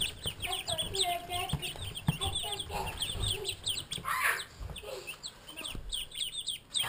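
Chickens cluck and chirp busily in a coop shared with ducklings, a dense overlapping chorus of close, mid-loud calls with people talking quietly underneath.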